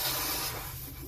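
Compressed air hissing steadily from a hose on a faulty 270-litre salt spray test chamber, a close, broadband rush that fades slightly toward the end.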